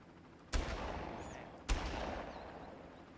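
Two sharp gunshots in the Far Cry video game, about a second apart, each a loud crack followed by a long fading rumbling echo.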